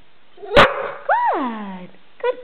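A dog barks on command: one sharp, close bark, then a drawn-out whining yowl, and a short yip at the end.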